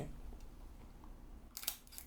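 A Leica camera shutter release fires once, a crisp bright click with a light mechanical snap near the end, preceded by faint room noise and no speech.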